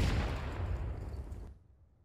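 Loud, dense roar of gunfire in Counter-Strike: Global Offensive, a blast or burst that fills the sound and then cuts off abruptly, with no voices.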